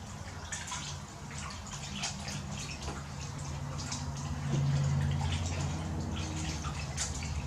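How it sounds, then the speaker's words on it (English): Running water from a tap as hands are rinsed, a steady splashing rush with scattered drips and a brief louder swell partway through, no talk. "I'll just rinse my hands off."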